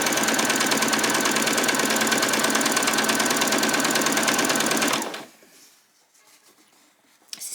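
A sewing machine runs a straight stitch along a doll's skirt edge, a close, steady rapid whir for about five seconds that stops abruptly, followed by faint handling sounds.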